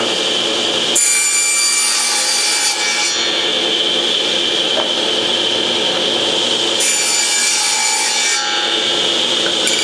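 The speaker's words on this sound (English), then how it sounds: "the next thing to do is cut a piece of plywood for the dimensions of the back here." Saw cutting through a piece of plywood for a trivet puzzle back panel, loud continuous rasping strokes with two bursts of brighter, harsher cutting, close and alone without talk.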